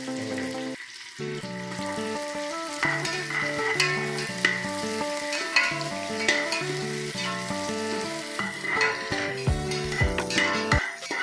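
Capsicum and curry leaves fry in about 100 ml of hot oil while being stirred. A steady sizzle runs throughout, with clinks of a spoon against the pan and louder scraping near the end. No one speaks.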